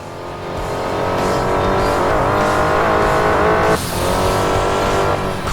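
A car taking off in the driving game Crash Time 5: a loud, close engine roar that climbs in pitch through the gears, with a brief tire squeal and a gear-change dip.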